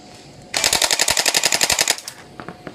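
An electric airsoft Uzi SMG fires one close, loud burst of about twenty rapid, evenly spaced shots, followed by a few faint clicks.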